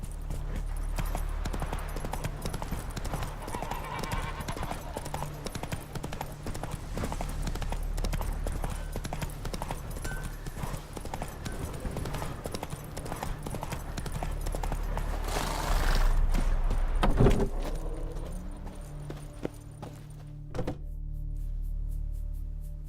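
Horse galloping in The Witcher 3 video game, a rapid, steady clip-clop of hooves over ground in the foreground that runs for most of the stretch before slowing, with a few thuds and fading out near the end.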